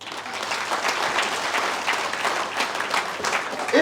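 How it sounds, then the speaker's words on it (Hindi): An audience at an AWPL business plan presentation breaks into loud, dense applause, many hands clapping steadily and close for the whole stretch. "एक बार जोरदार तालियां।"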